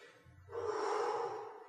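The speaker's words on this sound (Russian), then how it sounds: "Мощное такое дыхание." A deep belly breath drawn in before playing the flute: one long, full inhale, close and clear, rising and holding for about a second with no talking.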